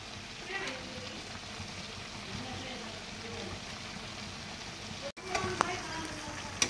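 Sour Filipino dish sizzling and frying in a pan while it is stirred, a steady soft crackle with occasional scraping and clinks near the end, fairly quiet.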